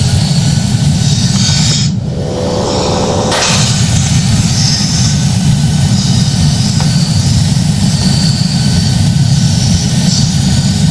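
Boeing 737 jet engines spool up at takeoff thrust in the Project Flight video game, a loud, steady broadband roar that holds unbroken, with a brief whining tone near the start.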